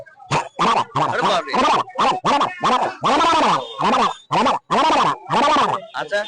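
A voice mimics two pond herons squabbling, with a rapid run of harsh, croaking squawks and grunts, loud and close, in choppy bursts.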